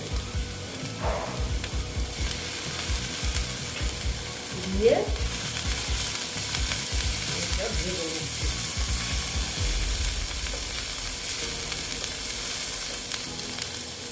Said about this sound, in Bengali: ভালো মতো আমি এটাকে ভেজে নেব যতক্ষণ পর্যন্ত আমার কাঁচা গন্ধটা না যায়